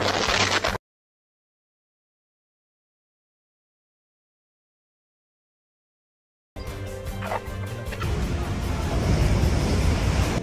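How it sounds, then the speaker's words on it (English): Enormous ocean waves crash onto a roadway with traffic moving through, a loud roaring surge of water and wind noise that swells after a long silent gap. "Enormous ocean waves crash onto the roadway, even as traffic moves through."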